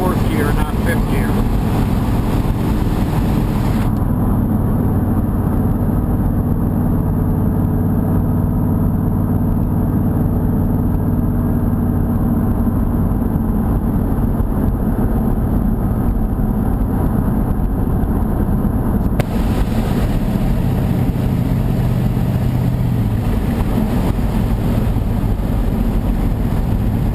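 A 1963 Corvette engine cruises at about 2,000 RPM in fourth gear, heard from inside as a steady, loud low drone with road and wind rumble that hardly changes over the whole stretch.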